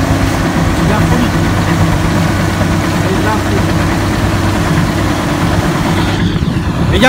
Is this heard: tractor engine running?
yes